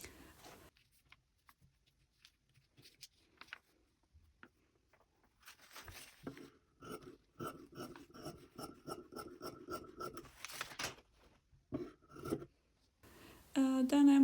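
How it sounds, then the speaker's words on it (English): Scissors cut through one-sided interlining fabric for a strapless dress, making a run of quick, rhythmic crisp snips and rasps at close range after a quiet stretch, with a louder rustle at the end. "Then I'm cutting interlining."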